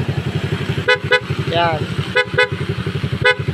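A Rusi 100/110 motorcycle engine idles with a steady chugging pulse while short, sharp toots from an upgraded loud horn sound several times nearby; a voice speaks briefly.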